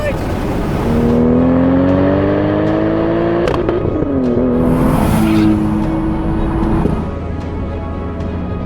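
Modified Toyota Supra twin turbo six-speed engine accelerating hard under boost from inside the cabin, rising engine tone through gear changes with a loud, sustained pull, and voices exclaiming in places.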